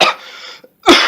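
A podcast host coughs deliberately, two loud, close, harsh coughs separated by a brief pause, with no talking.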